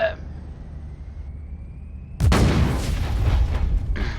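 A grenade detonates in the game Warhammer 40K Inquisitor Martyr, a sudden loud booming blast followed by a sustained rumbling roar that lingers for a couple of seconds.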